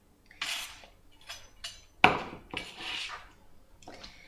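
Sliced lettuce is tipped into a bowl, giving several soft rustling, scraping bursts with one sharper knock of dish or utensil against the bowl partway through.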